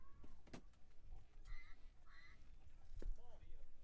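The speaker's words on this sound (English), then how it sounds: "It sounds like the Ducks are flying home to the pond over to our right" Ducks quack and honk in short bursts at a distance, off to one side of a 12U Little League baseball game, with crowd murmur and talk around them.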